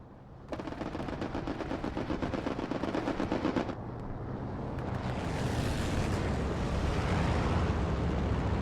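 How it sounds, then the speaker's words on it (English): Gunfire exchange in the World War II shooter game Hell Let Loose: rapid bursts of machine-gun fire for a few seconds, then a rolling wash of distant shots and explosions, fairly loud and continuous. "good return fire"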